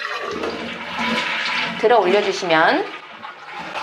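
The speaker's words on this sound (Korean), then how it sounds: "변기물이 내려가는 소리가 들리시죠?" A toilet with a missing flush mechanism, flushed by hand inside the open tank, flushes with a rushing, gurgling swirl of water while someone speaks briefly over it at close range.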